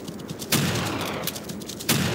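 Gunshots ring out in the Wii hunting game Deer Drive, three loud sharp cracks spaced about a second apart over constant game background noise.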